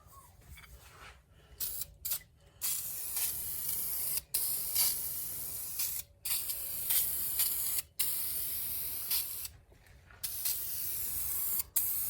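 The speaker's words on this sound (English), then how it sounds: "I'm going to put on a little bit of spray lacquer" Long, steady hissing bursts from an aerosol can of spray lacquer, close up, applied as a protective coating to a wooden squirrel picnic table, broken by brief pauses between passes.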